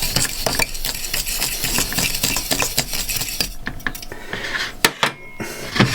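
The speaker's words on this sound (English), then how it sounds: "then combine your sugars" Sugars being stirred and combined in a bowl for chocolate chip cookies, a steady close scraping and clinking of a utensil against the bowl with a few sharper knocks toward the end, no talk.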